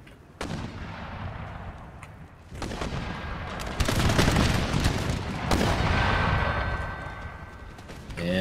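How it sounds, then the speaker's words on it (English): Massed musket volleys from troops in Empire: Total War crack out in a dense, rolling battlefield din, with loud clustered bursts swelling and fading over a constant low roar of gunfire. "Then you guys should have no problems just shooting them right there."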